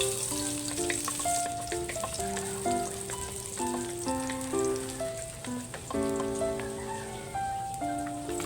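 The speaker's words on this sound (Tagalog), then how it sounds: "Maggisa na tayo ng mga ricados mga karaki." Garlic and aromatics sauté in hot oil for a Filipino pork guisado, giving a steady crackling sizzle that runs throughout beneath prominent melodic music.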